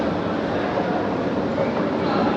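Metro train at Salt Lake Sector Five station, a steady loud rumble of rail transport with continuous broadband noise throughout, no clear separate clicks or squeals.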